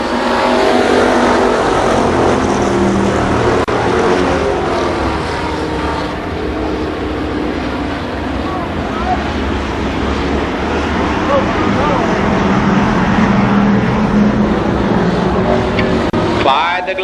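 Winged sprint cars race at Columbus Motor Speedway in 1993, a dense, continuous roar of several engines running around the oval, with a race announcer talking over the steady din throughout.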